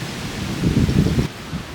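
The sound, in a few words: strong wind blowing at Normandy bunker site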